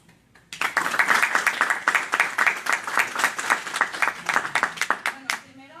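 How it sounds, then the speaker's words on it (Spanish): A live audience at a formal Mexican talk on police preventive control gives sustained, loud applause for a doctor being introduced: dense clapping that starts abruptly and continues steadily throughout. "les pido un fuerte aplauso para la doctora Esperanza Soto Alonso"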